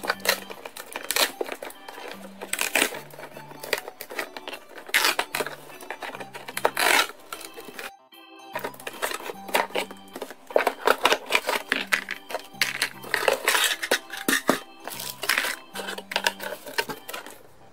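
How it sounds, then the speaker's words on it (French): A Disney Cars Piston Cup garage toy set is unpacked from its box, with busy bursts of crinkling plastic, tearing cardboard and clicking parts that stop briefly in the middle before resuming. "On va d'ailleurs tout de suite commencer par déballer celui-ci."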